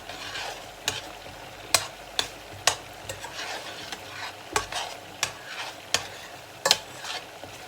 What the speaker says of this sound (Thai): น้ำจิ้มคนไปค่ะน้ำจิ้ม